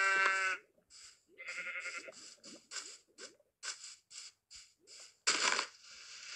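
Sheep in Minecraft bleat repeatedly in short, close, fairly loud bursts with brief gaps, ending in a harsher louder call, with no talk over them.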